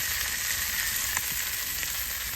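Fresh sea fish frying on a wood-fired stove gives a steady, even sizzle with faint crackles and a soft stir, fairly quiet and constant, no talk.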